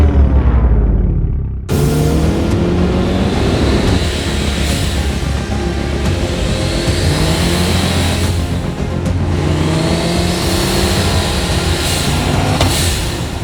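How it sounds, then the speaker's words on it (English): A 1999 Mitsubishi Lancer Evo VI engine revs loudly and steadily, rising and falling in repeated pulls after a brief quiet start, with no talking. "this is my 1999 Mitsubishi Lancer Evo"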